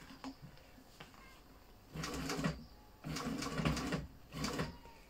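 Professional triple-feed sewing machine running in a woodworking shop, three short bursts of stitching about a second each, separated by quieter pauses, moderately close.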